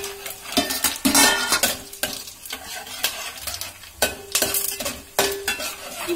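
Whole spices hit hot mustard oil and ghee in a pan for mutton pulao, crackling and sizzling with repeated sharp bursts as they are stirred, alongside clinks of a metal spoon against the vessel.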